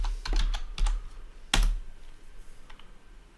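Someone types on a computer keyboard, with a few quick bursts of clicking keystrokes, one sharper key hit partway through, fairly faint and close against a quiet room.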